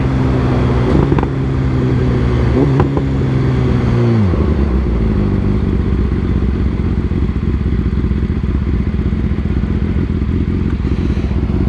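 A BMW S1000RR sport bike engine heard while riding, a loud steady drone whose pitch drops sharply as it slows around four seconds, then a rough idling rumble with wind noise.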